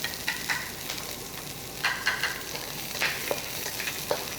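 Grated ginger fries in a little oil over moderate heat, a soft steady sizzle broken by a few sharp spatula scrapes and taps, close and fairly quiet, with no talking.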